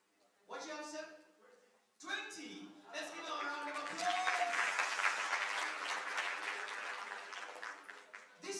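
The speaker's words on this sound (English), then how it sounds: "Let's give them a round of applause." Audience applause at a mental wellness and counselling breakfast conference, a brief burst of clapping, a short pause, then a sustained, fairly loud round of clapping that fades near the end.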